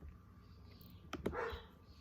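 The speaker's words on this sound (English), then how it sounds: "there's my dog barking" A dog barking in a home, a couple of short sharp barks followed by a brief whimpering yelp, heard a little distant against a quiet room background.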